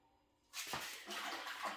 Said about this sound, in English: bucket of water to wash my hands